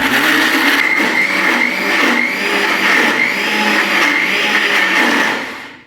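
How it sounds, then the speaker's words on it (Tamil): A mixer grinder whirs loudly and steadily, grinding wet urad dal batter for medu vada with a fluctuating motor pitch, then winds down at the end. "மிக்ஸியை மூடி திருப்பி அரைக்க போகிறோம்."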